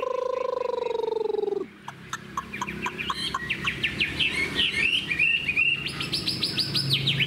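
A Chinese hwamei songbird in captivity sings loud, close, varied whistled phrases and rapid chirps, preceded by a brief sustained tone, with a faint voice in the background.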